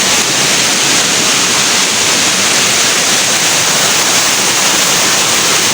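Swollen river water rushes in a loud, continuous broadband roar, steady and close throughout with no voices.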